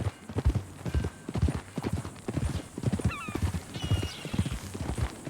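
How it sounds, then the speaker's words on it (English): Horse hooves clip-clopping in a steady walking rhythm in Red Dead Redemption 2, close and clear, with a brief whinny partway through and faint game ambience underneath. "Some folk buy ranches, some buy horses."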